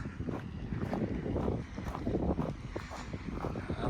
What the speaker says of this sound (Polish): Wiatr wieje.